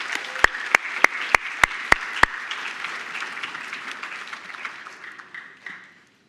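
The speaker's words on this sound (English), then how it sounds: "Let's give them all a big round of applause." Audience at a pitch night event applauding, a few sharp isolated claps at the start giving way to a sustained wash of applause that fades out near the end.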